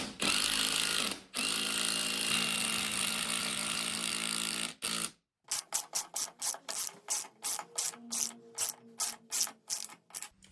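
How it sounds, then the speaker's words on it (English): Socket set ratchet driving TV bracket bolts into a solid brick wall: a long continuous whirring ratchet wind, a brief pause, then a rapid series of sharp, evenly spaced clicking ratchet strokes, close and loud. "You can use a socket set, like this one."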